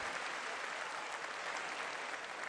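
Dense, steady applause from an arena audience at a choir performance for the president, with continuous hand-clapping holding at an even level for the whole stretch.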